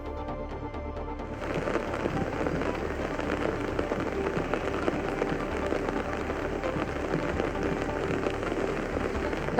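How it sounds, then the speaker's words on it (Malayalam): Heavy rain falling in Kozhikode, a dense, steady roar of drops on surfaces that swells in after a quieter first second and continues unbroken, with no voices. "കോഴിക്കോടിന്റെ ഉൾപ്രദേശങ്ങളിലടക്കം ശക്തമായിട്ടുള്ള മഴ പെയ്യുന്നുണ്ട്"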